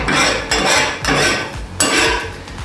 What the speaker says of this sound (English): I like to just scrape under each one and move them around